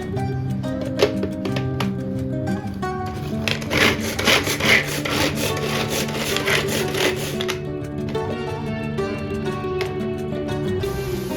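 Knife chopping green chilli, onion, curry leaves, ginger and garlic on a board, with a quick run of crisp, closely spaced taps and some rubbing in the middle, under a steady background hum.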